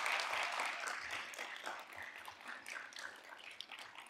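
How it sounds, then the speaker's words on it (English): Applause from the audience at a 2023 business conference, a fairly quiet, somewhat distant round of clapping that starts fuller and thins slightly, with a few sharper individual claps standing out. "I need to see a round of applause for Barbara Gallo and Paul Gore for putting"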